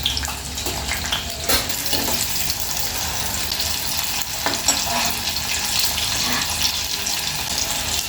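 Two green chillies fry in a generous amount of hot oil for a ridge gourd fry, giving a steady, loud, close sizzle that runs throughout with occasional crackles and stirring sounds.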